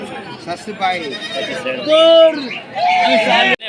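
Young goat kids bleat at a livestock market in Gopalpur, Natore, with a couple of loud, drawn-out cries standing out over steady crowd chatter and people talking nearby.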